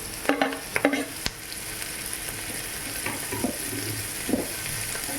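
Finely chopped onion dropped into hot oil in a pan for restaurant-style paneer chilli, a few sharp clatters and scrapes of stirring at first, then a steady even sizzle.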